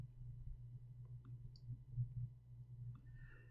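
A computer mouse is clicked during a software coding tutorial: faint, brief clicks over a steady low hum, with no speech.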